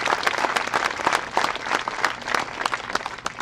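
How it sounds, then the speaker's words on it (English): Steady applause from a commencement ceremony audience, dense overlapping hand claps from a crowd, sustained and fairly loud without a break. "Give them a hand"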